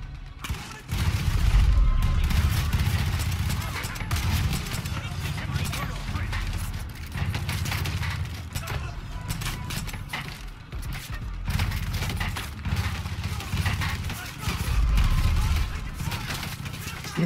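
Rapid bursts of gunfire from the video game Far Cry 5 crackle and boom almost without pause, a dense, heavy barrage amid the game's noise that swells and eases over the whole stretch.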